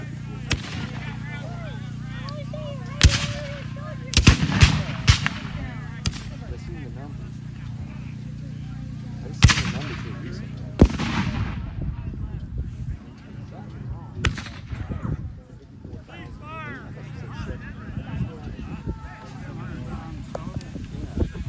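At a Civil War reenactment of the Battle of Vicksburg in Pittsfield, Illinois, cannon and musket fire crack and boom irregularly in scattered loud reports, some close together. People talk beneath the shots throughout.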